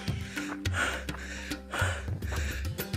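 Heavy, ragged panting from a hiker climbing Bukit Rodja near Ende, Flores: rhythmic gasping breaths at close range, with a low droning hum running underneath.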